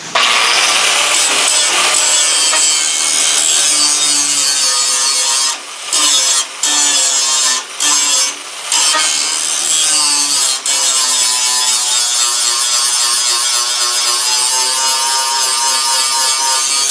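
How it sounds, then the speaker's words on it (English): A grinder works over a metal hay baler rail, producing a loud, continuous abrasive whine that breaks off in a few short gaps midway before running steadily again. "Now I'm just gonna grind her out, clean her up a little bit."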